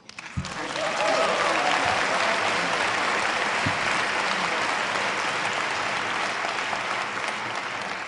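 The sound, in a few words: audience applause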